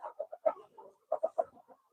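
Desi hens on a Punjabi poultry farm cluck in short bursts, two clusters of three or four close, moderately loud calls separated by a brief pause, with no talk.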